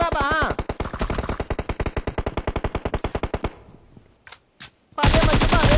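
Loud rapid automatic gunfire from an online shooter game, a long rattling burst of evenly spaced shots that stops, then two brief cracks, with a player's voice at the start and again at the end.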